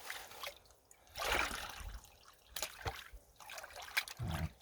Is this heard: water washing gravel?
yes